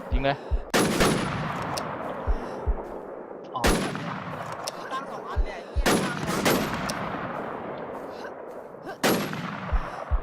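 Gunfire in the video game Infestation: several loud, sharp shots crack out with long reverberant tails, spaced a few seconds apart, some in quick pairs, with occasional voices in the background.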